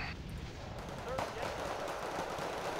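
Rapid gunfire from the real-time strategy game Wargame Red Dragon crackles steadily throughout, a dense, continuous battle din of shots and distant blasts mixed together at moderate loudness.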